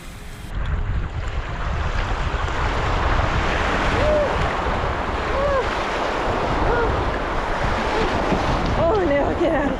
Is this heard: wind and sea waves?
yes